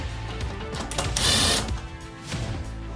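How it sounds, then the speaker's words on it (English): Mechanical ratcheting and whirring as sheet metal screws are driven into rear window screens on a RAM ProMaster van, a brief burst of close driver whine amid clicking, without speech. "now we're ready to install our screens using the sheet metal screws"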